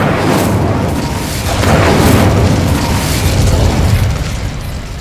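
A fire spell explodes in Hogwarts Legacy with a loud, sustained roaring burst that rumbles on for several seconds, with no voices.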